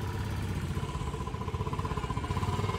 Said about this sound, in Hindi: स्टॉक सिलेंसर है भाई भाई, बुलेट ऑफ रोडिंग के लिए बनी है भाई